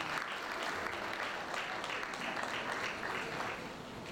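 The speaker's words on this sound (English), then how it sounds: "Please can we usher up to the high table with an applause?" A workshop audience at an institute of education claps continuously as guests are ushered to the high table, an even, steady patter of many hands, fairly faint and without speech over it.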